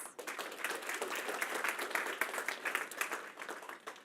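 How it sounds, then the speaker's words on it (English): Audience at a brain-health pitch competition final gives the finalists a round of applause: brisk, dense clapping from many hands, steady and close throughout with no talking. "Let's give them one more round of applause."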